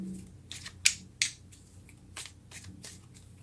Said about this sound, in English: Okay, let's get one more card.